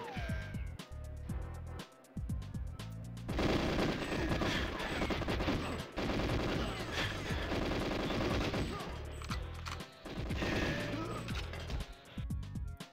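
Rapid, loud gunfire from several weapons in GoldenEye 007 on Nintendo Switch, dense bursts and single shots crowding together almost continuously, with brief dips between volleys.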